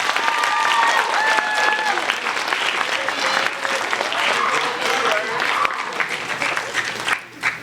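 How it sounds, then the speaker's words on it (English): An audience at a school induction ceremony gives inducted students a sustained round of loud applause that fills the room and fades near the end, with voices heard briefly over it. "let's give them one more round of applause"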